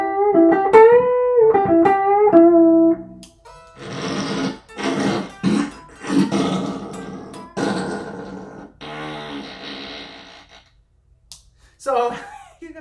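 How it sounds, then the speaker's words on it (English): A fart-effect guitar pedal engaged on a guitar signal: a pitched, bending note opens, then a run of buzzy, sputtering bursts with gaps between them, loud and close, with no voice over it. "every time you engage the pedal, it produces a fart sound"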